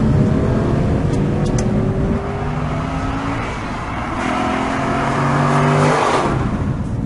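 A 2014 Aston Martin V8 Vantage N430 engine revving hard on the move, a loud continuous engine roar with rising and falling pitch sweeps as it climbs through the rev range and shifts, heard close with no talking.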